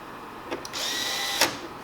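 A power driver runs briefly, driving screws that secure the interface board on a copier, giving a short, close mechanical whir framed by a couple of sharp clicks.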